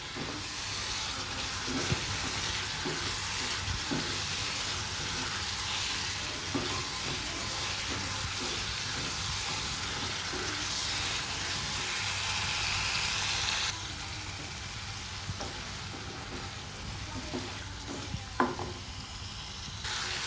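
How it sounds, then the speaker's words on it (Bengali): Potatoes and spices are sautéed and stirred in a pan for an egg and potato curry, a steady loud sizzle with repeated scraping stir strokes throughout, no talking. "মশলাগুলোকে আলুর সাথে ভালো করে কষিয়ে নেবো"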